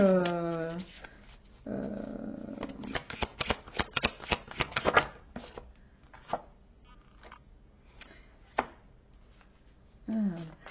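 Oracle cards being shuffled and dealt out in a run of quick papery riffles and soft slaps, with a voice talking at the start and again near the end.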